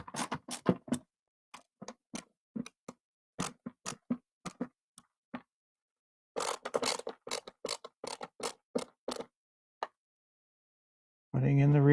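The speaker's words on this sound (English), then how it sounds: "Putting in the rear screws." Rear screws being driven in during an X-Arcade haptics kit install, heard as close, irregular clicks, taps and ratchet-like ticks in quick bursts with quiet gaps, ending in a louder sustained burst.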